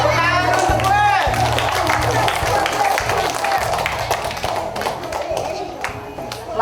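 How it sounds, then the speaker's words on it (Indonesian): An audience claps in uneven bursts of sharp, close hand slaps that thin out over a few seconds, mixed with voices and chatter. "Tepuk tangan untuk Gwen"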